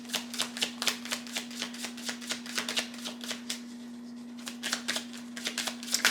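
Astrology cards are shuffled in quick, crisp riffling bursts, close and fairly quiet, repeating in an irregular rhythm with a brief pause midway over a steady low electrical hum.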